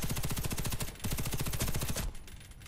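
Rapid automatic gunfire from an FN F2000 rifle in the shooter game Warface, a fast rhythmic burst of loud shots for about two seconds, then a brief pause with fading echo.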